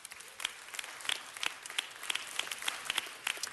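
Audience applause fills a city council meeting chamber in Los Angeles, a steady wash of many hands clapping at moderate volume with sharper individual claps popping out, sustained throughout without talk.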